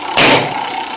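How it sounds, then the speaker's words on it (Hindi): Scooter engine running close and loud, a single steady burst that rises abruptly and holds with a buzzing tone for under a second, with no voices. "स्कूटर,"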